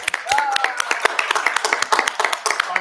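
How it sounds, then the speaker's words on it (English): At a Fargo park board meeting, a small room of people gives a round of applause: scattered, distinct hand claps in an uneven patter, moderately close, with a brief voice-like tone near the start. "we need to give Brock a round of applause now"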